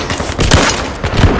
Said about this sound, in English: I'm gonna shoot everyone directly in the face with this gun